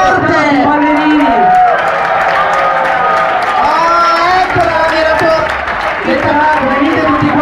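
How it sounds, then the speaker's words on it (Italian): Party crowd at a club event cheers and applauds for dancers, with loud music and shouting voices over the noisy mix. "Io vorrei un applauso più forte."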